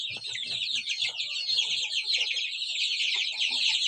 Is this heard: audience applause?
no